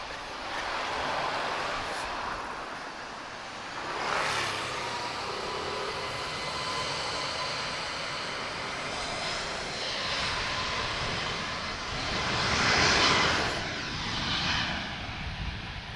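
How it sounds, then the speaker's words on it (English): An Airbus A321neo long-range jet airliner, TAP flight TP207 bound for New York, takes off from Lisbon Airport: a broad engine roar that swells and recedes in waves, with no talk. "TP207, long range A321neo, she's off to New York"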